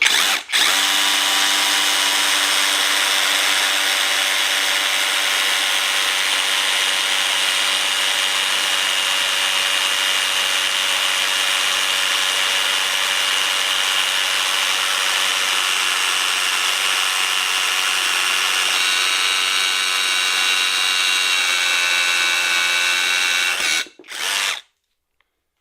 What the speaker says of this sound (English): you're going to need a nice hammer drill